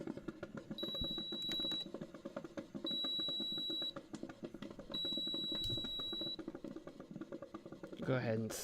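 Sharp electronic beeps from a device in a kitchen, going off in three separate bursts of about a second each, loud and clear over a low bubbling coffee pot and room noise.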